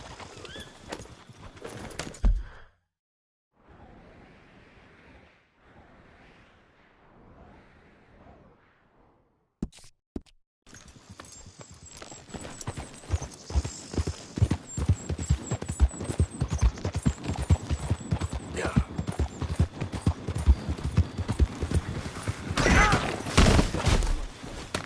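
A horse in Red Dead Redemption II bursts into a gallop after a stretch of near silence, its hoofbeats pounding loud and rhythmic for the rest of the run over a low rumble.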